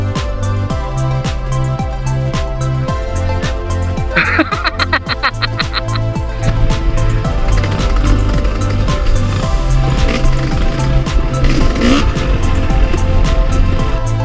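A Kawasaki KLX 140RF dirt bike engine revving hard with a steady droning pitch, loud and close throughout, with harsher rising bursts partway through over rough background noise.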